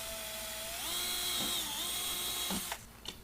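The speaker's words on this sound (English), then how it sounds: "Drill the 2 holes." A power drill whines steadily at close range, drilling holes for a motorcycle top case, its pitch shifting as it bites in, then winds down with a couple of short bursts.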